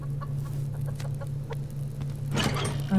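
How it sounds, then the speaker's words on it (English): Chickens in the survival game Subsistence cluck in short, scattered bursts over a constant low hum, building to a louder flurry of clucking near the end, with no talking. "They were clucking away there."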